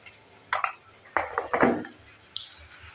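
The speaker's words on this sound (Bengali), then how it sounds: "দেওয়ার পর ভালো করে আবারও নেড়ে চেড়ে নিচ্ছি।" A spoon stirs spices in a pan for garlic methi sabji, giving a few short metallic scrapes and clinks in two loose clusters, fairly close and otherwise quiet.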